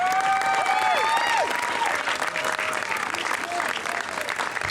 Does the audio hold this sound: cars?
no